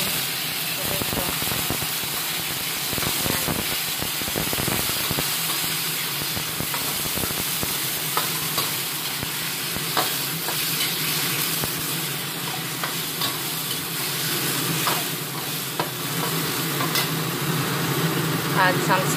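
Tomato fries in a hot pan with a steady close sizzle and a few stirring knocks near the start, while a kitchen exhaust fan keeps up a constant broadband hum underneath.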